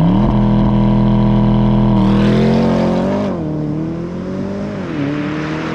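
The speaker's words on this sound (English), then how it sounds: "you've got the engine revving up" A combustion car engine held at a steady, loud idle-like drone, then rising in pitch as it revs up, settling and climbing again in smooth sweeps, close and alone with no talking.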